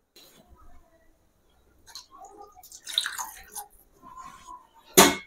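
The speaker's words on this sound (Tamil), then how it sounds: "தண்ணி ஊற்றிக்க போகிறேன்." Water poured into a cooking pot for Tamil appalam kuzhambu, heard as scattered splashes and trickling in a quiet kitchen, with a brief loud splash near the end.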